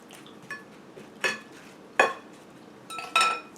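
Seasoned, oiled roasted vegetables drop into a pan in a few separate clattering bursts, with metallic clinks between quieter pauses.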